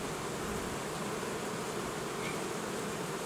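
Honey bees buzz on a hive frame lifted from a colony in July, a thick continuous hum of many insects up close, steady and without talk.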